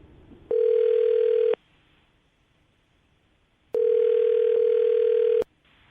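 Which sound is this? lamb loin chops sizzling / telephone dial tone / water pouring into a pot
telephone dial tone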